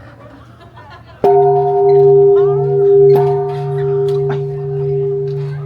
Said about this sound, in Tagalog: Patunogin natin tong bell.